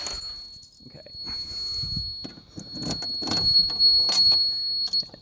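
A fire alarm's steady high-pitched tone rings throughout, with clattering, shuffling and faint movement noises underneath.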